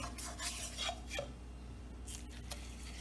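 Egg roast masala for a Kerala-style dish being sautéed in a pan, with a utensil scraping and stirring in repeated close strokes over a faint low sizzle.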